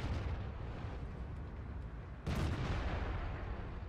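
A tank cannon in World of Tanks fires a single loud blast that rises abruptly out of constant low battle rumble and then fades slowly.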